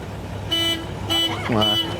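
A car horn sounds three times in short, even-pitched blasts, the second and third longer, against a steady low traffic rumble and a background voice.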